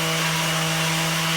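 A power sander with 40-grit abrasive grinds stone, a loud, continuous, close whining drone with harsh buzzing texture and no pauses.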